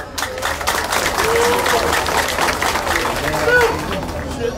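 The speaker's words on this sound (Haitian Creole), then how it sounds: "Un autre applaudissement, s'il vous plaît." A crowd at a public event where Haitian President Jovenel Moïse inaugurates a 24-hour electricity project in Tiburon claps in sustained, dense applause, with cheering voices mixed in throughout.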